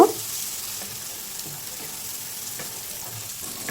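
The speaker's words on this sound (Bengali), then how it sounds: "এবার আমি যোগ করে দিচ্ছি কুচনো টমেটো টমেটোটাকে একটু মিশিয়ে নেব" Chopped tomatoes frying with ground spices in a pan for a lote (Bombay duck) fish dish, giving a steady soft sizzle with light stirring throughout, fairly close and alone.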